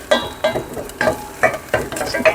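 A bay leaf and chopped sage are stirred in a sizzling pan, with about six close, rhythmic scraping strokes over a steady frying hiss and no talk.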